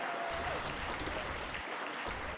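An audience at a live stage event claps steadily throughout, a dense continuous patter of applause at moderate loudness.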